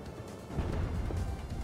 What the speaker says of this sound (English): It's an ammo explosion on me.